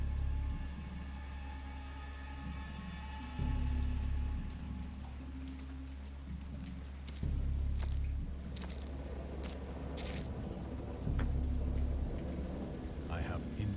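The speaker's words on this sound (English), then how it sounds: "I know that I heard pearls of thunder and other tones which nature utters only in her wildest moods." A thunderstorm in the video game Dagon: steady heavy rain with repeated low rolls of thunder swelling and fading across the scene, and no voices.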